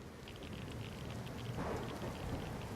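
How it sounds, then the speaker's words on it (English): Acid rain falls steadily in the survival video game Empyrion Galactic Survival, a faint, even hiss of rainfall with no talking over it. "Oh, we're still in acid rain."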